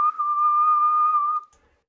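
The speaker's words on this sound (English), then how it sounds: "I want to control this bot using whistle commands, similar to how shepherds control their sheepdogs" A person gives a sheepdog-style whistle command to control a robot: one steady, clear whistled tone held for about a second and a half, close and loud, then cut off into silence.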